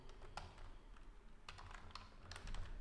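A number being typed on a computer keyboard, a few soft separate keystroke clicks spread out over a few seconds, faint and with no voice.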